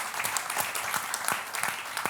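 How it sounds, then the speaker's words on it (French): An audience at a business leaders' conference debate applauds warmly, with crisp overlapping hand claps heard at moderate distance in a steady, brief round. "on peut vous applaudir"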